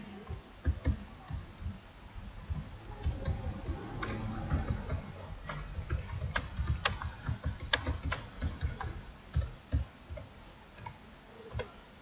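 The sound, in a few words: typing code on a computer keyboard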